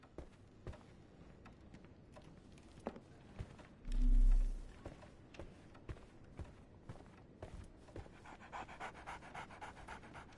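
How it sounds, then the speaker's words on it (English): A dog pants steadily in a Sherlock Holmes video game, a rapid, continuous breathy rhythm up close, with soft footstep-like taps and a brief low thump in the middle. "So, Barnes has a dog now"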